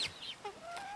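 Young chickens inside a chicken tractor give soft, high chirps and rising peeps, close and fairly quiet, with a few overlapping calls and no speech.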